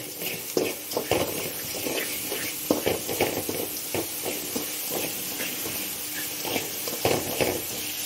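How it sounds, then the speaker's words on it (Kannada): Jaggery powder frying together in a pan, giving a steady close sizzle with repeated scraping and stirring strokes throughout, no voices. "ನಾನು ಬೆಲ್ಲದ ಹುಡಿ ಹಾಕ್ಕೋತಾ ಇದ್ದೀನಿ. ಇದನ್ನು ಒಟ್ಟಿಗೆ ಫ್ರೈ ಮಾಡುವ."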